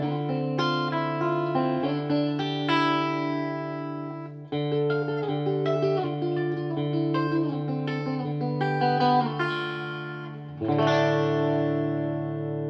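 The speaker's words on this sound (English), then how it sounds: "I'll just welly it up a bit more so you can hear how much reverb is on tap." Electric guitar played through a Blackstar HT-40 Club 1x12 valve combo amp with the reverb turned up high, sustained chords ringing out into a wide, washy ambient tail, loud and close with no talking.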